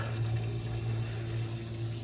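Water runs and trickles steadily out of a car's charge-cooler coolant tank under a low mechanical hum, with no voices.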